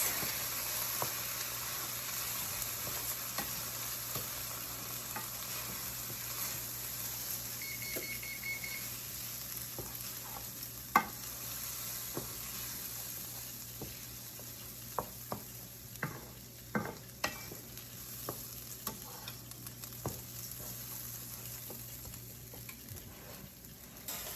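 Rice toasting in a single pan for Cajun chicken and rice, a soft steady sizzle under scattered clicks and scrapes of a utensil stirring the grains, close and continuous with no talk.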